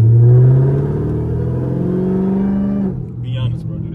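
A Dodge Hellcat with a ported supercharger snout revs nearby, a loud deep engine roar holding steady for about three seconds before dropping back to a lower rumble, with a voice briefly audible.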